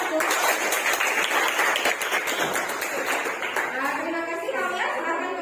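Classroom applause for group 1 in a sociology class, a burst of steady clapping from many students that fades as a voice talks over it.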